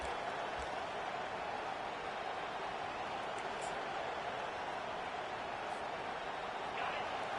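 A stadium crowd at a Georgia vs Miami football game roars in a steady, broad wash of cheering and noise that never lets up, with no clear single voice standing out.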